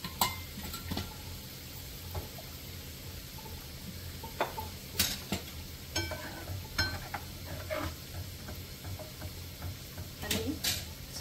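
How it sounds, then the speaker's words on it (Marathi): Peanut amti is stirred in a pan after water is added to the hot oil. Soft sizzling runs throughout, with scattered faint scrapes and clicks of the spoon against the pan. "थोडेसे पाणी टाकून हलवून घेऊया."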